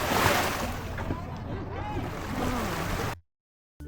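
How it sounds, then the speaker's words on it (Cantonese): Lake water at Kanas laps against the shore beside a tree-lined lakeside path, a steady broadband wash close by with a person speaking over it, then a sudden cut to silence. "一邊行一邊可以聽下湖水沖埋嚟嘅聲音"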